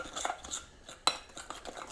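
Marinade of salt and chili powder mixed in a bowl for a potato dish, soft scraping and clinking of a utensil with one sharper knock, close and quiet.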